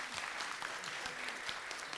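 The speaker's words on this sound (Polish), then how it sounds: "Brawa." Audience applause at an academic year inauguration marking a college's 25th anniversary in Poland, dense continuous clapping from a hall full of people, steady and fairly soft throughout the brief stretch.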